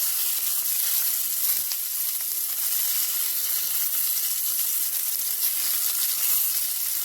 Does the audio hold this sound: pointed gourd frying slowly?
yes